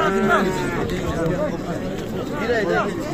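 Cattle and young bulls moo repeatedly at a busy livestock market, several low drawn-out calls rising and falling amid crowd murmur and chatter.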